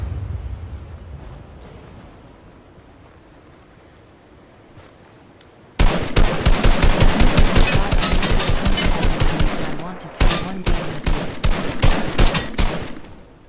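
Loud rapid gunfire from the Fortnite video game in an arena match, a long string of close shots fired in quick bursts with a brief pause, following a quieter stretch of game ambience.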